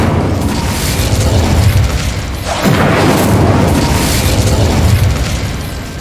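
Incendio fire spell cast in the Hogwarts Legacy video game: a loud, continuous roaring whoosh with booming low rumble, swelling again midway through with a sweeping burst, dense and close throughout.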